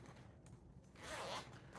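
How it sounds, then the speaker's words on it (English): A zipper drawn along a homemade travel makeup case, one steady pull of the slider heard close and alone with a small click at the end. "Also, this have a second zipper."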